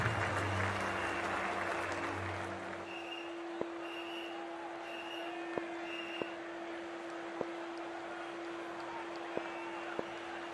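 Stadium crowd applause in the Cricket 24 video game during an IPL 2024 match between Lucknow Super Giants and Punjab Kings, a broad roar that settles into a sustained wash of distant crowd noise with a steady tone and occasional sharp clicks.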